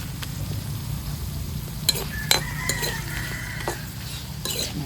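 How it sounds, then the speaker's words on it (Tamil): Onions and chilies fry in a pan with a steady low sizzle, broken by a few sharp clinks and scrapes of a spoon stirring; no voices are heard. "வெங்காயம் பொறிஞ்சிட்டு மிளகாய் அதோட சேர்ந்து பொடியே நல்ல வாசம் தருகின்றவே"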